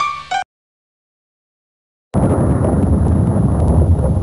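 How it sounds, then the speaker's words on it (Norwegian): Explosion in the 1996 PC game Tøffe jobber: a short burst, then silence, then a loud sustained roaring rumble of blast and debris lasting several seconds with no talk. "Oi, det var litt av en eksplosjon."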